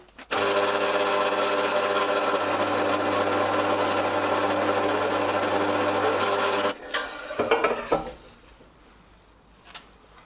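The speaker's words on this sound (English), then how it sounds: "we're going to hone the bores." A cylinder hone grinds steadily and loudly inside the bores of an A-series engine block for several seconds, then cuts off, leaving clattering and tool handling sounds.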